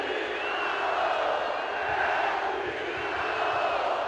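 Football supporters chant steadily in the stands at a Paraíba state championship match between Treze and Campinense, a dense, continuous sustained choral roar with no clear breaks throughout.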